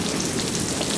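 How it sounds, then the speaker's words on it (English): Steady, dense rain pours down in a late-winter storm, a continuous close hiss of drops striking surfaces with no break across the moment. "It's not as raining as hard as it was before"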